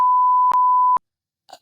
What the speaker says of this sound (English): I'm gonna bleep that.